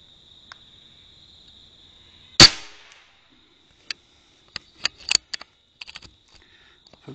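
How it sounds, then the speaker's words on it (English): Rifle shots fired at a holdover target through a night vision scope ring out as a sharp loud crack followed by several quieter sharp clicks and taps, over a steady high electronic whine. "I'll fire three shots at that"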